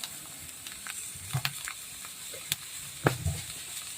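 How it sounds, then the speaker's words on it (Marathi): Cluster beans (guar) frying with salt make a faint, quiet sizzle, with scattered soft clicks and taps from the pan. "मी आता छान असे मिठामध्ये छान कलसून घ्यायचे शेंगा मस्त फ्राय करून घ्यायचे आहे"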